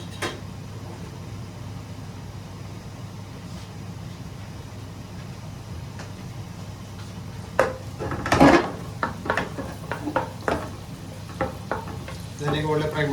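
Chopped garlic and ginger frying in a pan, a quiet steady sizzle that gives way to clinks and scrapes of a utensil stirring against the pan near the end.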